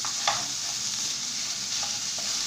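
Minced meat filling with grated carrot is stirred in a hot frying pan for savory puff pastry, giving a steady close sizzle with soft scraping strokes of the spoon throughout and no voices.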